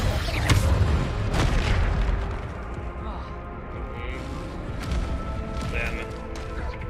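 Bombarda spell blasts from Hogwarts Legacy boom near and loud, a couple of heavy explosions up front that trail off into rumbling debris and quieter game effects.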